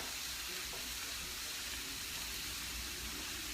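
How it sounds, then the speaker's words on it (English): Spinach and red pepper sautéing with garlic in a pan for a cauliflower stir fry, a steady faint sizzle with constant hiss throughout. "So this is the sauteing the spinach with the red pepper."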